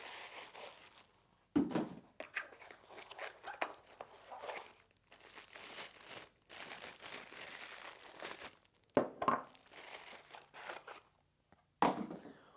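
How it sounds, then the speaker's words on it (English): Thin plastic bag crinkling as a wooden Bluetooth speaker is unwrapped, close and crisp, coming in irregular bursts with short quiet gaps and a few sharper rustles near the end. "Your speakers are going to be wrapped up in these little plastic bags, so go ahead and take the speaker out of the bag"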